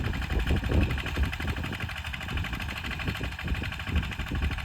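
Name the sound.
small Sanedo tractor engine running in a field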